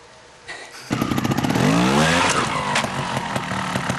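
A trial motorcycle engine starts, then revs hard, rising and falling in pitch with a buzzing, raspy tone, loud and close throughout.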